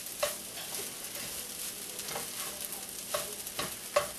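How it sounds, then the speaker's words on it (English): Fried rice sizzles quietly in a skillet under constant stirring and flipping, a soft continuous fry broken by several sharp scrapes and taps of the utensil against the pan. "It's just constant stirring and flipping."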